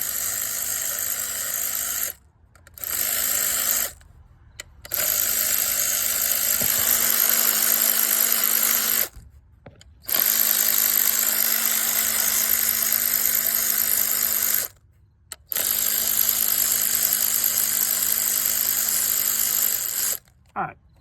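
Cordless power tool spinning out 8mm ignition coil bolts on a Ford 1.5 EcoBoost engine, several loud whirring bursts of a few seconds each separated by brief silent gaps, close up.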